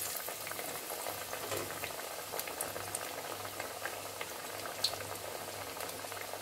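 Vadai for morkuzhambu frying in hot oil on a stove over medium flame, a steady dense sizzle and bubbling that runs evenly throughout at close range.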